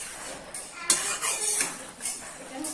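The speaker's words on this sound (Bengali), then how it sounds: "ঘি আর গরম মশলাটাকে এবার ভালো করে একটু নাড়াচাড়া করে দিচ্ছি" Ghee and garam masala being stirred into vegetables for a wedding-style potol chingri (pointed gourd and prawn) curry, with soft scraping and clinks from the pan coming through in short bursts, fairly close and quiet.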